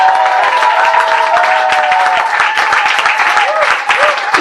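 A church congregation claps and cheers in a dense, continuous wave of applause, loud and close, with voices mixed into the din throughout.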